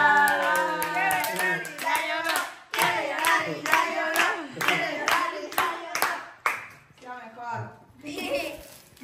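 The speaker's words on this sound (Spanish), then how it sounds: "quiero que todos hagan un aplauso para esta familia chistosa y una gran hermana." A family claps their hands together at home, sharp irregular claps mixed with cheerful talking and a voice throughout.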